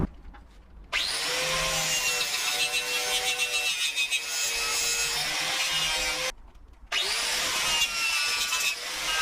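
A used air-conditioning pipe on a Corrado TDI is cut to length with a saw: two long stretches of rasping, grinding cutting, close and moderately loud, separated by a short pause, with no talking.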